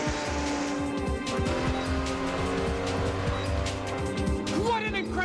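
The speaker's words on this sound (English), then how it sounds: "What an incredible racing car!" Racing car on a test drive in the animated series Speed Racer X, its engine droning steadily with tire squeals and skidding throughout, loud and continuous, with music or voices mixed underneath.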